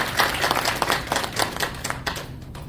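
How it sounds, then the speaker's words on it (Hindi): Audience at a talk on osteoporosis clapping together, a dense, steady patter of hand claps close by that thins out toward the end. "आपने ताली बजाई"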